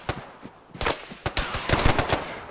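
Rapid gunfire from the video game ArmA 3, a mix of automatic bursts and single shots cracking in irregular clusters throughout, some near and sharp, others more distant.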